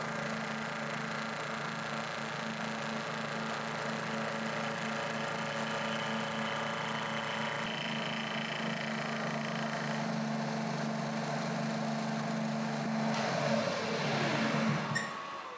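A milling machine cuts flats on a steel tube fixture jaw, giving a steady, loud machining hum with a sustained low tone throughout, shifting briefly near the end as the cut changes.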